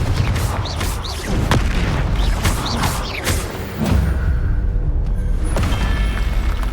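Confringo fire spells detonate in Hogwarts Legacy combat, several heavy booming blasts and thuds landing in quick succession over a dense, continuous battle din.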